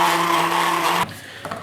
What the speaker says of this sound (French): Et on va mixer tout ça.